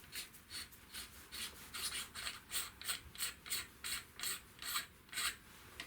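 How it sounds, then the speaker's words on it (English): An airsoft gun's flash hider on a Tokyo Marui SGR-12 shotgun is unscrewed by hand, giving a quiet series of short rhythmic scraping clicks from the threads, close and alone. "This flash hider should just unscrew."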